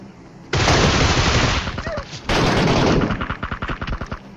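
Loud MK14 rifle gunfire in PUBG Mobile during a fight at Pochinki: a long dense burst of shots, a brief pause, then another sustained volley that breaks into rapid separate cracks.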